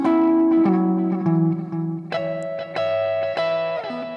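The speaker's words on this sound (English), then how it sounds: "Сейчас мы включили reverb, обыкновенный такой hall." Electric guitar notes and chords played through a Boss digital reverb pedal on hall setting ring out with spacious reverb, each attack trailing into a smooth, lingering wash.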